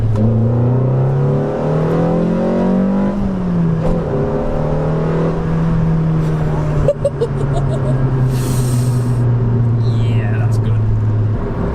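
A four-cylinder car engine fitted with Newman cams and a custom remap, pulling in second gear as a loud, steady droning note that rises in pitch, heard from inside the cabin with a voice talking over it.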